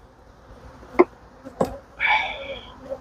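Honeybees stirred up after their hive was accidentally kicked, heard as a couple of sharp brief buzzes of bees flying close past, then a louder sustained buzz lasting about a second.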